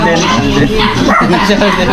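A dog barks and yips in quick bursts close by, mixed into a steady noisy background where people are talking.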